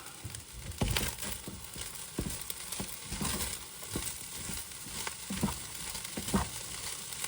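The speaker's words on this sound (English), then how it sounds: "You want to hear that nice sauteing sound." Rice sautes and crisps in a pan for fried rice, a soft steady sizzle with scattered scraping stirs and crackly bursts repeating every second or so, close and fairly quiet, with no talking.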